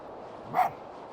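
In the video game Spirit of the North, a fox gives a single short bark from some distance, rising briefly above quiet ambient sound.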